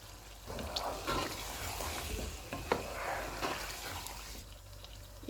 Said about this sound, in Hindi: अब हम चूल्हे को कम करते हैं और इसमें फेंटा हुआ दही डाल देंगे।